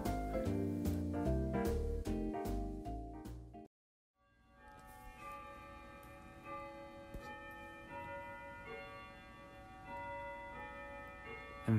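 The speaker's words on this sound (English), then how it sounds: "that is the sound of the chimes here in the Dillweed Bed and Breakfast" Clock chimes at a bed and breakfast in Dilltown ringing a series of bell strikes that stop abruptly, followed by a quieter ringing room tone.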